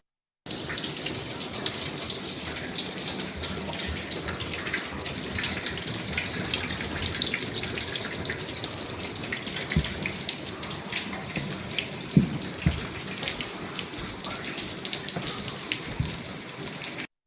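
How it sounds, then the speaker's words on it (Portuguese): Torrential rain pouring and flooding water streaming into a bank branch auditorium in Chimoio, Mozambique, a steady dense hiss of falling and running water throughout with no speech. "a cidade de Chimoio registrou chuva torrencial"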